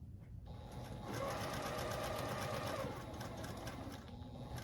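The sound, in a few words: sewing machine sewing quilt block pieces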